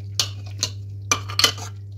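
Sarson ka saag, boiled mustard greens cooked soft in a pressure cooker, mashed in the pot: a few sharp metallic scrapes and knocks of a utensil against the pot, in two short bursts over a steady low hum.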